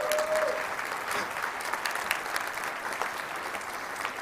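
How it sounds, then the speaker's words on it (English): Audience at a JavaScript conference breaking into sustained applause, a dense wash of clapping from a crowd that holds steady for several seconds, with a brief tone at the start. "I want you all to give them a round of applause"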